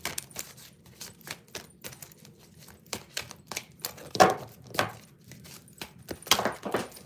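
A deck of archangel oracle cards is shuffled by hand in a quiet room, giving a string of short, crisp riffling and tapping bursts with irregular gaps, near and moderately loud.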